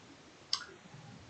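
A single soft, short click from tapping an email in the Gmail mobile app, faint and alone in an otherwise quiet room.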